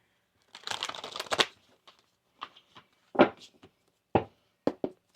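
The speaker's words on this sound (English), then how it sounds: "One more shuffle here." Tarot cards shuffled close up, a dense riffling burst followed by several sharp, separate card slaps and taps, with no talk.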